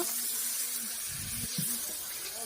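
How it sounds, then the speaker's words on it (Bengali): Spice-washing water poured into a pot of chicken curry cooked village-style with mustard oil over a wood-fired clay stove, a short soft splash and trickle heard close up. "আর এই যে মশলা ধোয়া জলটাও এর মধ্যে দিয়ে দিল"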